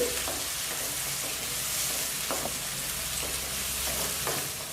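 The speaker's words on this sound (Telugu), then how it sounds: "ఆయిల్ కాగిన తర్వాత ఇందులోకి ఒక పెద్ద ఉల్లిపాయని చిన్న ముక్కలుగా కట్ చేసుకుని యాడ్ చేసుకోవాలి. యాడ్ చేసుకుని చక్కగా వేయించుకోవాలి." Finely chopped onion frying in hot oil in a kadai for a gongura prawn curry, a dense, loud, continuous sizzle close up with a few faint stirring clinks underneath, and no voices.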